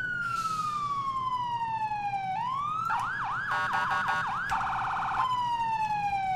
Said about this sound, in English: I believe I have the same siren.